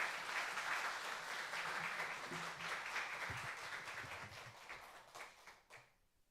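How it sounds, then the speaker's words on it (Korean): A church congregation applauding to welcome a speaker at a Sunday afternoon service, sustained group clapping heard from a distance that slowly thins and fades to quiet. "우리 유영호 간사님 나오실 때 우리 박수로 환영해 주시기 바랍니다."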